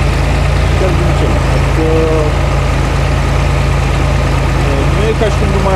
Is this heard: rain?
no